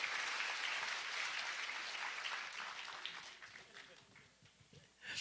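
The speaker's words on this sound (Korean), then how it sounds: "여러분 큰 박수로 무대를 감사 인사 모시겠습니다" An audience at the 12th Daegu Citizens' Roundtable in 2017 applauds as Daegu Mayor Kwon Young-jin is welcomed to the stage, steady dense clapping that gradually thins and fades, with a fresh burst at the very end.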